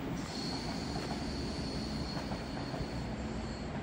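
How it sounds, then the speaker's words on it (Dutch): A train at Sittard station with its locomotive coupled gives off a steady, close wheel squeal, a thin high whine held over a dense rumble of rolling stock for the whole stretch. "De lok is er inmiddels aangekoppeld"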